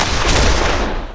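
Rapid gunfire during stealth combat in This Land is My Land rolls in a loud, continuous burst of shots that trails off slightly at the end, with no voices over it.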